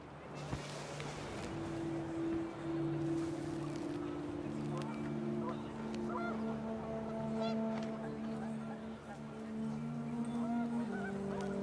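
Panicked geese in the video game What Remains of Edith Finch, a flock honking in overlapping sustained calls at moderate volume under gusting wind, with someone narrating over them.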